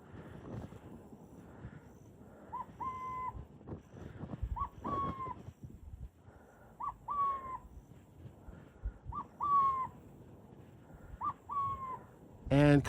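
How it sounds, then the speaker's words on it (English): Several short, wavering hoots from an owl perched on a container sound out one after another in a quiet desert setting, with faint rustling and breathing in between. "it was an owl perched on our container"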